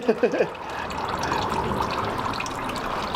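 Motor oil drains from a car during an oil change, a steady liquid pour and trickle running continuously after a few brief knocks at the start.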